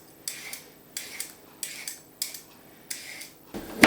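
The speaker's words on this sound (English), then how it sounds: "So we need to top and tail and peel the carrot." A carrot being peeled with a peeler: a run of short, crisp scraping strokes in a regular rhythm, close up and fairly quiet, ending in a sharper knock.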